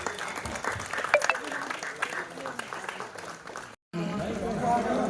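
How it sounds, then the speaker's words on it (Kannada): Applause from an audience at a religious ceremony for a temple kalasha installation, steady and fairly loud, broken by a brief cutout near the end, with voices mixed in. "ಜೋರಾದ ಚಪ್ಪಾಳೆಯ"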